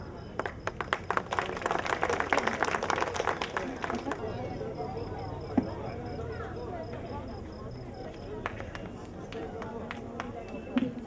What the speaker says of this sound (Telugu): దయచేసి ప్రేక్షకులు అందరూ చప్పట్లతో చాలా అలంకరిస్తున్నారు